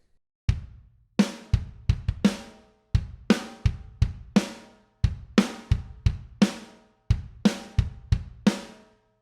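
Kick and snare drum pattern from a song, played as crisp, punchy hits in short repeated bursts with brief gaps between phrases, clear and close with no other sound.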